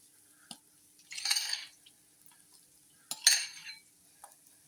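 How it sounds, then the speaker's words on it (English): Two bursts of scraping and stirring as flour is worked into yoghurt dumpling dough in a bowl, each lasting about a second, with a few light taps in between and quiet gaps around them. "So just enough flour, and we don't want to mix it too much."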